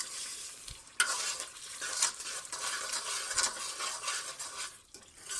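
Peshawari chicken charsi karahi being roasted and stirred in a pan, with a loud continuous sizzle and repeated metal scraping and clinks of the spoon against the karahi, close up and with no talking.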